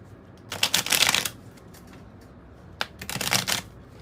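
A tarot and oracle card deck is shuffled by hand in two close bursts of rapid riffling and flicking, separated by a short quiet pause.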